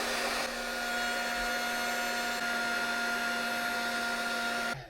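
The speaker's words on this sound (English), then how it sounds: "Going to get my heat gun, and I'm just going to shrink this." A heat gun blows hot air to shrink heat shrink tubing on charger wiring, a steady whirring blower hum with a faint whine that runs almost five seconds without pause before cutting off abruptly, with no talking.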